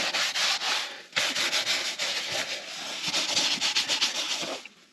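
A brush's bristles scrub a car interior during a waterless wash, giving a steady, close, loud scratchy rubbing in rhythmic back-and-forth strokes with a brief pause near the start, no voices.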